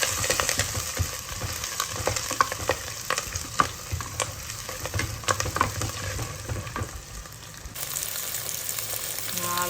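Curry leaves crackle and sizzle in hot oil for a South Indian tomato curry, a dense steady frying hiss with sharp pops and stirring, close up, ending in a quieter, smoother sizzle.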